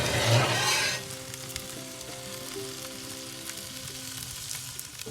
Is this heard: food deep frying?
yes